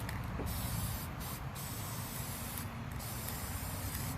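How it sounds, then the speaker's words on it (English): White spray paint hissing steadily from an aerosol can onto the tips of scrap-lumber mountain wall decor, a continuous close spray with a few brief pauses. "what we're going to do is take some white spray paint. We're going to spray these tips up top"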